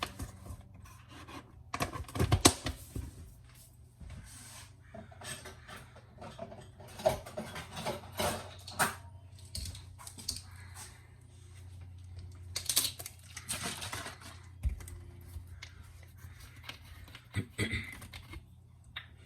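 A computer keyboard typed on in irregular bursts of clicky keystrokes with pauses between them, fairly close. A kitchen is in the background, where a flag cheesecake is being made from scratch.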